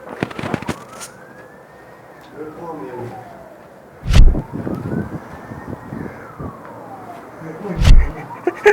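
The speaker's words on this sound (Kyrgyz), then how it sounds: "Алыстан полициянын сиренасы уй" A police siren wails in the distance, its tone sweeping slowly up and down in long cycles, broken by loud nearby thumps and bursts of activity.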